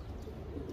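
Pigeons coo softly in a short low murmur, faint and steady, with no other sound.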